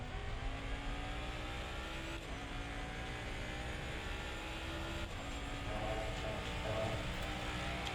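Ford Mustang race car engine lapping Silverstone in a racing video game, a steady loud drone with rising and falling revs and gear shifts near 2 and 5 seconds, continuous throughout.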